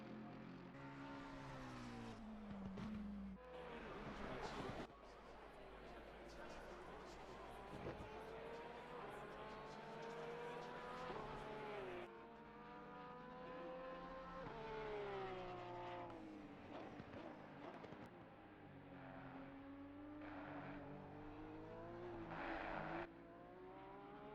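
Mercedes and Ferrari race cars in Assetto Corsa Competizione qualifying at Zolder, engines revving hard and continuously with pitch sweeping up and down through gear changes, loud and steady, with faint talk underneath.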